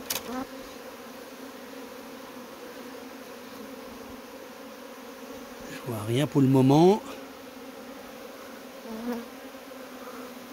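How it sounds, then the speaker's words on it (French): Honey bees buzz around a hive, a steady nearby hum of many wings, with one bee swooping loudly past the microphone midway and someone speaking briefly. "il y a des abeilles qui volent très nerveusement, exactement comme une reine vierge"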